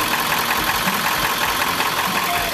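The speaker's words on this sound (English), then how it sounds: "It's a power stroke diesel." A Power Stroke diesel engine idles steadily and up close, a continuous rough mid-pitched rumble with a faint knocking texture and no talk over it.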